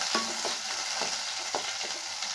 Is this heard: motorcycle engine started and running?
no